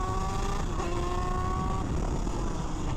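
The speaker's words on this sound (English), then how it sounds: "It's by the sound of the engine. When it's really high-pitched, it's time to switch gears" Shifter kart engine revving high before a gear change, a loud, continuous buzzing whine with steady, sustained pitch and no talk over it.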